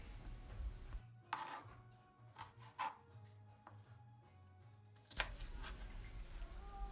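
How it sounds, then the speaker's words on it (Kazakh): Napa cabbage being cut into cubes with a knife, with several crisp chopping strokes on a board, spaced irregularly and fairly quiet over a low background hum. "Осылай бәрін турап аласыздар."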